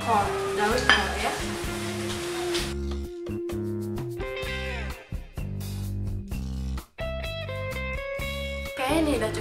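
Frying and stirring mini martabak telur, an egg batter with spices, spring onion, onion, beef and cabbage, in a pan: a steady sizzle with intermittent clinks and scrapes of utensils against the pan throughout.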